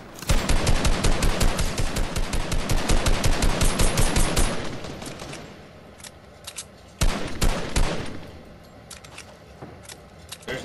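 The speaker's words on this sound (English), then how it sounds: "This fool's shooting at us." Rapid automatic gunfire in the video game Fortnite rattles loudly in dense bursts for several seconds, then thins to scattered shots and short volleys after a lull.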